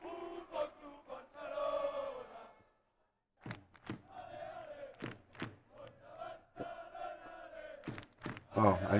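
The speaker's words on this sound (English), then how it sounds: "Crowd are still going wild." Simulated stadium crowd noise from Football Manager 2021 swells in waves of chanting and roaring, broken by a brief silence and several sharp thuds. The level stays moderate, with a few surges.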